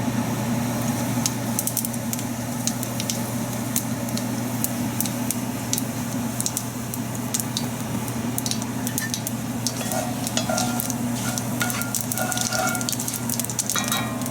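Fennel seeds fry in olive oil in a pan, a constant close sizzle with scattered crackles and pops over a low steady hum.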